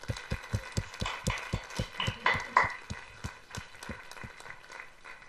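Clapping at a lecture on mechanical forces and cell motion comes as a steady rhythm of loud, close slaps that sound like one or a few people rather than a full crowd.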